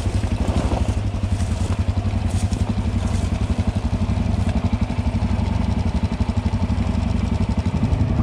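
Enduro motorcycle engine on a rough trail ride, a steady, loud, close chugging throb with a clattery mechanical edge running unbroken through the whole stretch.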